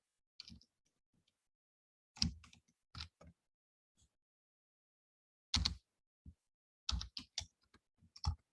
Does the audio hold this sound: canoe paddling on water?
no